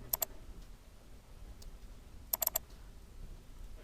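A computer mouse gives faint, sharp clicks in a quiet room: a quick pair near the start, a lone tick, then a rapid cluster of three or four clicks.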